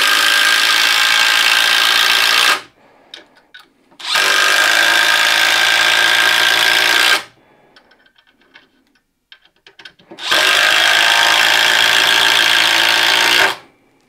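A Milwaukee M12 Fuel impact driver on speed three drives 3.5-inch deck screws, three loud rattling bursts of about three seconds each, separated by short pauses with faint handling sounds.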